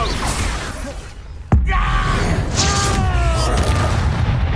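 Expulso spell explosion in Hogwarts Legacy combat, a sharp sudden boom cutting through ongoing battle noise, followed by sustained rumble with ringing tonal effects and shouting voices.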